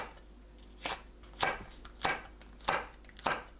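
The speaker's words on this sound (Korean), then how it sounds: "파, 청양고추, 홍고추는 어슷 썰어주세요." A knife slices green onion and green and red chili peppers diagonally on a cutting board, five crisp, evenly spaced chops close up, each a short sharp thud against a quiet low hum.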